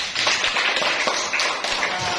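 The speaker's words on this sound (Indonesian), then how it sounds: "Tepuk tangan dulu teman-teman" A group of classmates claps at the end of a class session, a close, dense patter of hand claps that runs throughout at an even level.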